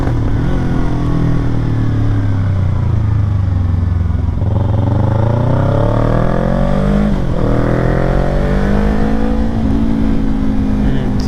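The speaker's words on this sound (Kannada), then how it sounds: "ಆದಷ್ಟು ಇಂಜಿನ್ ಬ್ರೇಕಿಂಗಲ್ಲೇ ಇಳಿಸ್ಕೋಬೇಕು ಇವಾಗ" A motorcycle engine brakes loudly and close while descending tight downhill corners on a rainy road near Chikkamagaluru, the note falling and rising with each gear and bend over a steady rumble and wind noise.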